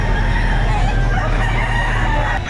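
A rooster crows at a busy chicken market in Batangas, a drawn-out cock-a-doodle call rising over steady background bustle and clucking.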